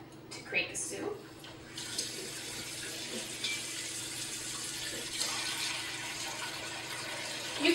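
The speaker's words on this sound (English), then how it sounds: "So next we're going to remove the pot and add some water to it to create the soup." Running water pours steadily into the inner pot of an electric pressure cooker for soup, fairly quiet and close, following a few brief knocks at the start.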